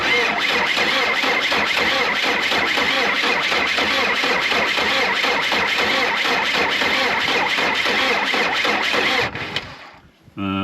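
An old diesel engine cranks on a boost pack after sitting for four years, a loud rhythmic chugging of the starter that keeps turning over for about nine seconds without catching, then dies away.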